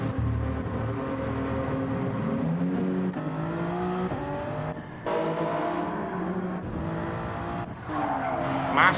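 Race cars in Gran Turismo 7 screaming past with high engine whine, shifting pitch as they accelerate and brake, tires squealing and skidding through corners, loud and close without any voices.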